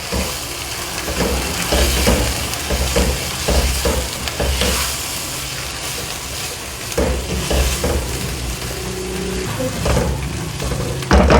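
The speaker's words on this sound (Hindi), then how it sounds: "अभी फिर से मैं इसको 2 मिनट फ्राई करूँगी।" A chicken biryani mixture fries in a pan with a continuous loud sizzle and hiss, broken by intermittent scraping and stirring sounds, close up and without any talk.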